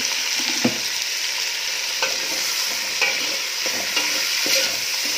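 Pineapple and tomato stirred into shallots and garlic fried golden in a pan, a loud continuous sizzle with repeated scraping stirs and light utensil taps throughout.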